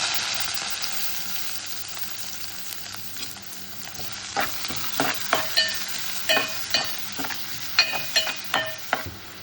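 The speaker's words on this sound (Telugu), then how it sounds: "ఆయిల్ కొంచెం వేగాక అట్లానే 2 లవంగాలు వేయాలి, ఉల్లిపాయలు వేయాలి" Cloves and onions frying in hot oil with cardamom, a loud close sizzle followed by a run of rhythmic spatula scrapes and knocks against the pan.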